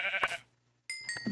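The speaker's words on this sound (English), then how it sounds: "you would also really want to hunt down some sheep" Sheep bleating in the video game Minecraft: two short, fairly loud bleats separated by a brief quiet gap, with no talking.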